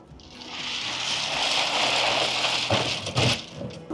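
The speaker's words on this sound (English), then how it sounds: "it's starting to rain pretty good now" Steady rain pours down across a muddy mountain road construction site, a dense continuous hiss that swells and holds, with a few heavier splashes and knocks near the end.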